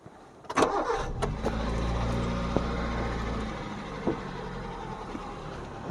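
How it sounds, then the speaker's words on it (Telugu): A 2011 Hyundai i10 Sportz petrol engine with manual transmission cranks with a couple of sharp clicks, catches, and settles into a steady rumbling idle, with a brief rev partway through. "ఒకసారి వెహికల్ని స్టార్ట్ చేసి చూపిస్తాను"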